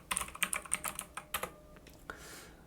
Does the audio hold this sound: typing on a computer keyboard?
yes